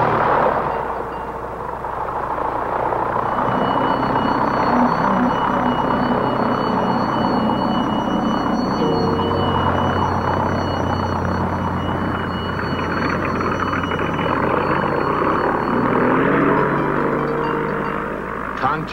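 A small propeller plane's engine drones loudly throughout, continuous with slight shifts in pitch, in flight.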